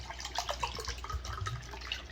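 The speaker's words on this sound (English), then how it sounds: "use the Keurig in the room to warm up some water" A Keurig machine in a hotel room dispenses hot water, a soft steady stream trickling and splashing into a cup beneath a low mechanical hum.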